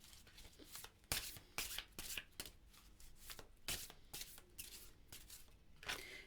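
A hand shuffles a deck of Spirit Oracle cards, giving a run of crisp riffling and slapping bursts at an uneven rhythm, close and fairly quiet, with no talk.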